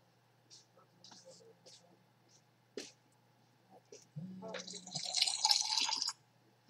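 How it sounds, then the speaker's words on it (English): A phone water-reminder notification plays a water-drop chime, a short bright burst of dripping tones following sparse faint clicks and a soft voice. "That's my water reminder."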